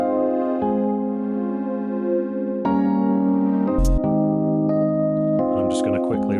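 A liquid drum and bass piano part produced in Ableton sits over a wavetable pad, with sustained chords changing every second or two and a couple of brief percussive hits, played alone without talk.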